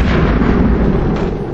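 A gunshot in the video game XCOM 2 rings out as a loud, heavy boom with a rumbling tail that fills the short moment, booming and dense, with no talking over it.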